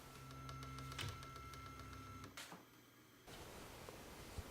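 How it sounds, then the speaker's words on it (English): A Klipper 3D printer moves between bed-leveling probe points, its stepper motors giving a close, steady tonal whine that shifts pitch and stops abruptly between moves, followed by quieter background hiss. "as the printer moves to each probe point"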